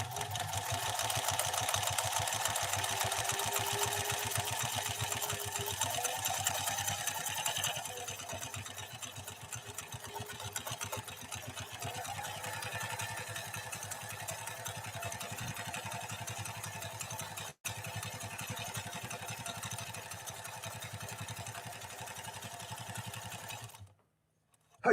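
A Pfaff 332 sewing machine stitches a 3-4-2 pattern in a steady, loud, continuous mechanical whir. The speed rises briefly, then it runs on evenly and stops abruptly near the end.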